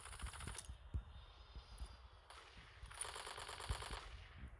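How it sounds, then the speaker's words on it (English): Gunfire in the Gangstar Vegas video game, sniper rifle shots firing repeatedly over a steady game soundscape, fairly faint, with a few sharp cracks and a dense rattling stretch near the end. "Sniper rifle destroyed it."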